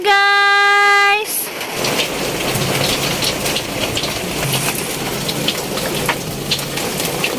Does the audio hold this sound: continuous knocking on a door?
no